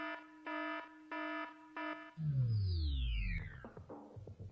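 An alarm sound effect played on a live shopping TV broadcast (Gems TV): four loud, evenly spaced electronic alarm beeps, followed by a sweeping, descending whoosh-like tone that fades out.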